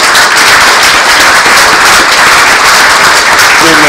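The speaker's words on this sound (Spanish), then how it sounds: "pedir un aplauso a nuestra querida secretaria ejecutiva de la comisión, Charlotte Iverne" Audience applause at a human rights commission event honouring its executive secretary, a dense, loud, steady wash of many hands clapping throughout, with no voices standing out.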